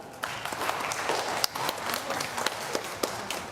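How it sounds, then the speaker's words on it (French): Audience applause during a homily at a Catholic Mass, steady dense clapping from a crowd with a few sharper individual claps standing out, moderately loud and continuous throughout. "Applaudissez-la"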